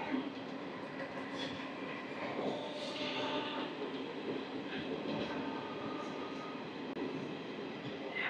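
Circar Express 17644 passenger train heard from inside while running, a steady broadband rumble and rattle of wheels on track with faint squeals, continuous throughout at moderate level.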